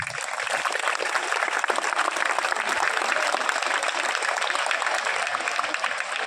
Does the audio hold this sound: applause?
yes